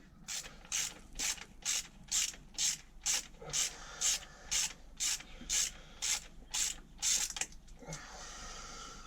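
Bolts being backed out with a ratchet during an engine rebuild: a steady run of about fifteen rapid, even clicking bursts, close and fairly loud, stopping just before the end with no talk.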